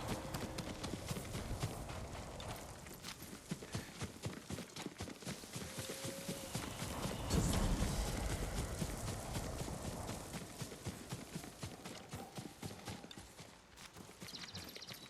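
Horse hooves clip-clop steadily at a walking pace in the game Ghost of Tsushima, moderately close, with a continuous outdoor ambience behind and a brief louder swell midway.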